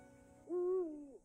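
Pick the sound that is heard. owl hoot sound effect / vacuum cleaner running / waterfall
owl hoot sound effect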